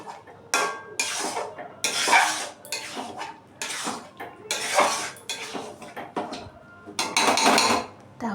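Mango pickle is mixed in a bowl, giving repeated clinks and scrapes of a spoon against the dish. The sounds come in uneven bursts with short pauses, close by and fairly clear.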